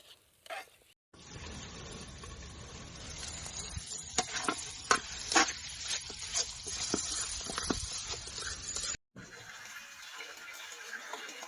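Chicken tawa fry sizzles steadily in a pan over an outdoor campfire in a forest, a continuous crackling hiss with sharp pops and spatters, close and moderately loud, briefly interrupted near the end.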